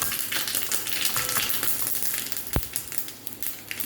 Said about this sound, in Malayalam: അതിലേക്ക് നമ്മൾ ചുമന്ന മുളക് ഇട്ട് കൊടുക്കുകയാണേ.